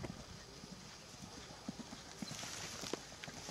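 Steady clip-clop of horse hooves at a trot at a cross-country eventing competition, moderately faint, with someone talking over it and background noise.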